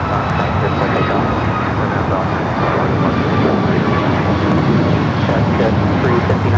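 Aircraft taking off from runway 25 right at LAX, a loud, steady jet roar that fills the whole stretch, with radio talk over it.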